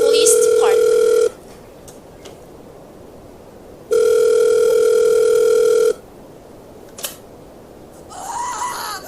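A telephone line ringing through to a police department, two long steady electronic rings separated by silence, loud and clear, with faint clicks between.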